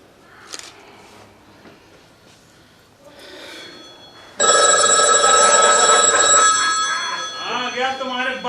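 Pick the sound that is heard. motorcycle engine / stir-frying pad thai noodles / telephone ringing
telephone ringing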